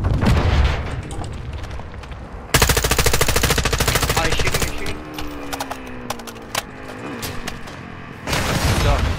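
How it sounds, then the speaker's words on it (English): RGL grenade launcher fire during a firefight in the video game DMZ: loud, close bursts of rapid gunfire and heavy booms in quick succession, while players talk over the din. "They're shooting RGLs, bro."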